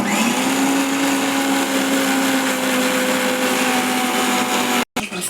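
A mixer grinder whirs loudly and steadily, grinding a thick masala paste for a mutton chops gravy, with a constant motor hum, then cuts off abruptly near the end and restarts briefly.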